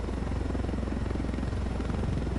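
A helicopter flying in the video game Ghost Recon Wildlands gives a steady, loud rotor drone with rapid, even blade chop that runs through the whole stretch with no talk over it.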